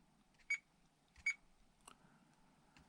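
A WFLY X9 radio transmitter sounds its alarm, short high beeps repeating at roughly even intervals, close and fairly faint against a quiet background.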